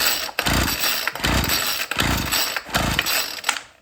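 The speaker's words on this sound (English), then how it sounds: "I'm gonna try and get it to run on carb cleaner." A small engine fed only carb cleaner sputters to life in four loud, close bursts, each lasting under a second and separated by brief gaps.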